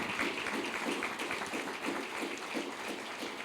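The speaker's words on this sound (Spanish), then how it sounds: "¿Por qué no le dan un aplauso a Jesús?" A church congregation applauds during a Spanish-language evangelism sermon, producing a steady, dense wash of clapping from many people that lasts for the whole few seconds.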